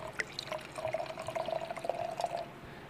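Dark mangrove honey mead being poured into a glass, a faint, steady trickling stream with small drips, heard alone and fairly quiet.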